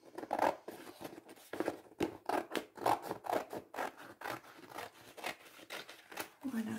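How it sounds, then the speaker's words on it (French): Scissors cut paper for a collage in a run of close, quiet snips and scrapes, fairly regular, with small rustles between cuts. "Je prends mes ciseaux."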